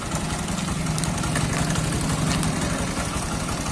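A TVS Victor 3-valve new-model motorcycle engine idles steadily with a fault in its timing chain, giving a continuous close, even chugging with a noisy mechanical rattle over it and no pauses.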